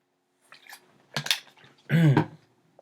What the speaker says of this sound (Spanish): vamos a darle un traguito de agua